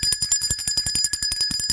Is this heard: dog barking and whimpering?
no